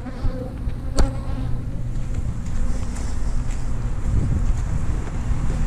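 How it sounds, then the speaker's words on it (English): Bees hum outdoors around a beehive box near an open feeder, a low, continuous buzz with a sharp knock early on and some wind rumble underneath. "just a few bees hanging out in there"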